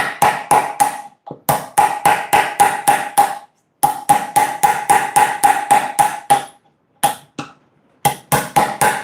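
Chisel struck with a mallet into very hard, expensive wood, loud sharp close knocks in quick rhythmic runs of five to seven blows separated by short pauses.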